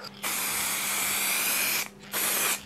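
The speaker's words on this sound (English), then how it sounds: "2 medium coats of lacquer. I'm using a 2K lacquer." A spray gun lays 2K lacquer onto a headlight reflector bowl in a steady, loud, close airy hiss. One long pass breaks briefly, then a second shorter pass follows.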